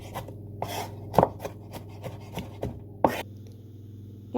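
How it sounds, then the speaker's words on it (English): Knife chopping garlic finely on a board, a steady run of soft rapid taps and scrapes with a few sharper knocks, close and fairly quiet. "You want to get this garlic chopped nice and fine"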